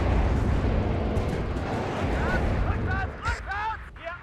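Autocannon fire from an anti-air vehicle in the WARNO war game, a dense, loud, continuous roar of shots and blasts that eases toward the end, where faint voices come through.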